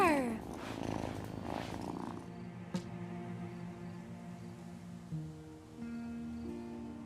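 Cat purring in the Wylde Flowers game, a steady low purr, near and fairly quiet, after a short burst of other game sound at the start.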